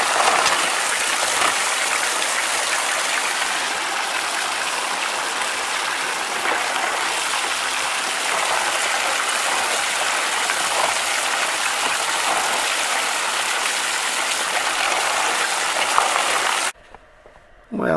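Water gushes steadily through a Bucket Blaster high banker as gravel is washed, a dense continuous splashing rush close by that stops abruptly near the end, with no talking.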